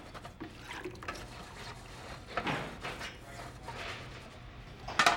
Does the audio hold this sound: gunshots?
no